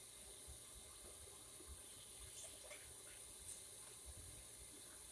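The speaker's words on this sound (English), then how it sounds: "Rinsing the apples out in cold water before I put them in the pot." Apples are rinsed under a cold kitchen tap, and the running water makes a faint, steady hiss that continues without a break.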